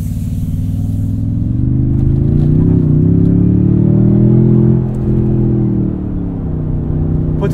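A 2024 Toyota Tundra TRD Pro i-FORCE MAX cruises at speed, heard from inside the cab as a steady low drone of engine and road noise that swells slightly then settles, loud and continuous with no talking.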